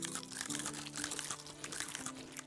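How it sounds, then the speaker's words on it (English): Eating pears in the Medieval Dynasty game, a dense stretch of crunchy munching and crinkling that runs continuously over steady background music. "let me just eat the rest of those pears"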